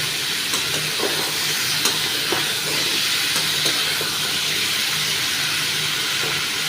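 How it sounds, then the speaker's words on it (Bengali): Pumpkin curry being stirred in a pan over the stove, a steady soft hiss and sizzle with faint scraping strokes, no talking. "এবারে বেশ কিছুক্ষণ একটু নাড়িয়ে নিচ্ছি"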